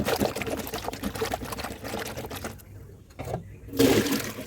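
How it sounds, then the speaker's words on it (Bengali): Water pours and splashes steadily as chopped taro stolons are rinsed, then drains away in a brief trickle, with a louder splash near the end. "এরপরে লতিগুলোকে ভালো করে পানিতে ধুয়ে পানি ঝরিয়ে নিলাম।"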